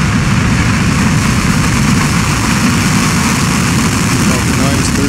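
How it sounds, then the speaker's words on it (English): A SpaceX Falcon 9 rocket lifts off with a loud, steady roar that fills the whole clip without letup, a dense broadband rumble heavy in the low end. "We have liftoff of Falcon 9."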